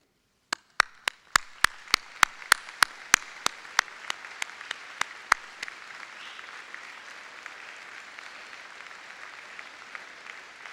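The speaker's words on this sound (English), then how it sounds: "let us applaud them for their support" Audience applause at a university convocation starts with a few sharp, distinct claps, then swells into sustained, steady clapping from many hands that continues to the end.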